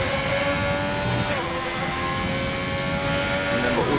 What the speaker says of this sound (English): He's on a push lap in the Scarlet Ferrari.